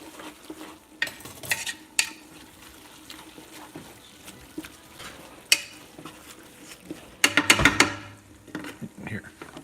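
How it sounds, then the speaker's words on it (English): Camp stew with beer simmering in a pot, soft bubbling and stirring scrapes with a louder clatter and sizzle burst near the end, close, with occasional background voice. "You don't hear all that boiling in there? That beer is almost boiled all the way out"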